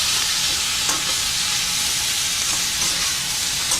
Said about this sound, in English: Put all the mixed vegetables in. That's it. Now you fry them all up.